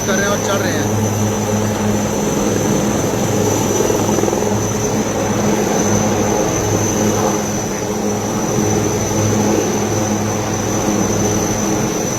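A helicopter flies during a flood rescue in Himachal after heavy rain as CRPF personnel are lifted aboard, its loud, steady rotor and engine drone filling the whole stretch with voices beneath it.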